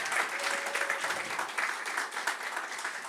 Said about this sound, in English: Could we give them one more big round of applause?